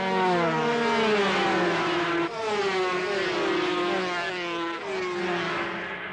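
Clubmans racing cars at Silverstone in 1983 scream past with high, rising and falling engine notes, several cars overlapping as they accelerate and shift, loud and sustained with no talk.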